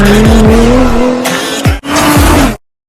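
A modified street car, an inexpensive sedan, revs hard up close with rising and falling engine tones, a brief cut in the middle, then another loud sustained rev before stopping abruptly.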